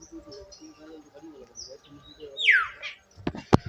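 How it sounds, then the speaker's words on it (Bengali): Sparse birdsong in a quiet place: a few soft chirps, then a sharp descending whistle and some brief clicks near the end. "শুধু পাখির ডাক।"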